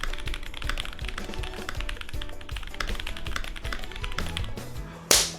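Fast, continuous typing on an ASUS ROG Azoth X mechanical keyboard, with dense rapid key clacks close to the mic and a louder burst of keystrokes at the end.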